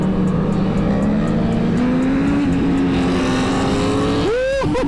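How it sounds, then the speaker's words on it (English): A motorcycle engine drones steadily under wind rush on a night ride through Miami, then a sharp, rising rev from a Ducati snaps in near the end. "That Ducati sounds mean"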